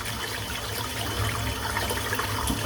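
A tap runs water steadily while soap is rinsed out of a Simpson Chubby 2 shaving brush, a close, continuous splashing gush with no talking.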